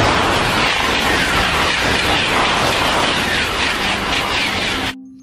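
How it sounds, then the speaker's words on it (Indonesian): Toy high-speed train effect: a loud, dense rushing roar with faint clattering, steady for about five seconds and then cut off sharply. "Kereta super cepat."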